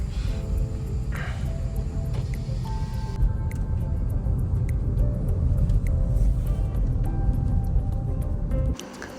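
Maruti Grand Vitara hybrid car descending a steep hill near Idukki, heard from inside as a steady low rumble of road and engine noise with faint rattles and a brief tonal whine, no talking.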